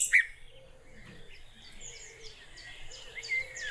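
Bird song played back through a phone speaker gives repeated high chirps and trills over a quiet, dark background, fairly faint and thin.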